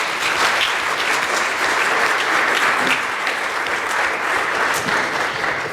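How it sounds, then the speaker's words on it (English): Sustained applause from a church congregation during a Sunday morning service, dense and steady throughout with no voices standing out. "we want to give you a round of applause of congrats"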